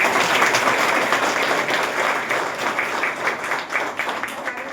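An audience at the Solapur Municipal Corporation applauds the newly elected mayor with dense, sustained clapping from many hands that fades slightly toward the end.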